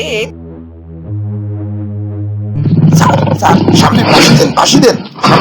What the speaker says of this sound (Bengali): সিংহ চলে এসেছে